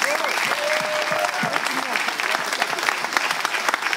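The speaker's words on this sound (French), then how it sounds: "ils méritent un grand applaudissement du public" Audience applause at a slam poetry competition in Togo, a dense, steady wave of clapping lasting throughout, with voices and a few whistles or cheers rising over it.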